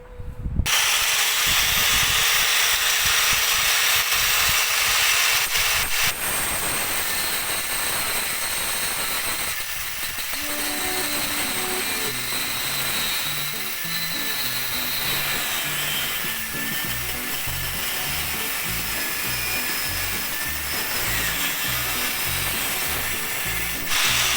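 A 4-inch angle grinder mounted on a slide cutting stand cuts a groove into steel. It makes a loud, steady grinding whine that runs the whole time, with shifting rhythmic rattles and no talking.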